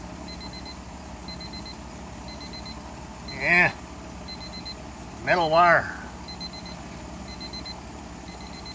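Short electronic beeps from a ThermoWorks thermometer alarm repeat steadily at an even pace in the background, beside a Weber kettle grill, joined twice by brief spoken words.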